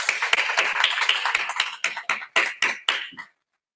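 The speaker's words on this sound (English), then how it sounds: "let's give a round of applause for all of the presentations" Scattered applause at a hackathon's final presentations, a small group clapping close by that thins into a few separate, evenly spaced claps before stopping.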